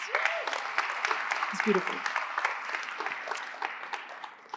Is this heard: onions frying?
no